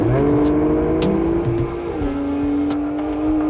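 An Aston Martin grand touring car drives with a steady, loud engine drone that shifts pitch as it changes gear, the sound continuous and close with no talking.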